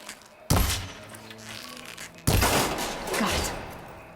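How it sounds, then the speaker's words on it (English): Two sharp, loud impacts from shooting a lock off in Horizon Forbidden West, each a sudden thunk followed by a short ringing clatter, with game ambience between them. "Need to shoot off the lock."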